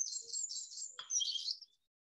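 Birds chirp and sing outdoors in a few bright, close calls, a run of high twittering notes followed by a short final chirp, then silence.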